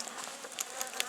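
A dense swarm of bees at a top bar hive hums steadily and loudly up close, a continuous buzzing drone with individual insects whining past.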